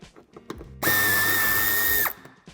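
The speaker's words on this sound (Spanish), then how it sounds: "En el paso de ruedas, en este caso el paso de rueda derecho, quitaremos los tres tornillos que sujetan el paragolpes." A power drill or driver whirs steadily for about a second, backing Torx 25 screws out of the right wheel arch of a 2009–2017 Škoda Yeti, loud and close, with faint clicks of handling before and after.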